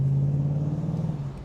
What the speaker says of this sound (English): Oh, that's a V8.